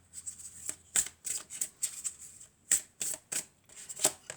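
Tarot cards shuffled and drawn in quick bursts, about a dozen crisp riffling swishes and snaps with short pauses between, close and fairly quiet, no voices.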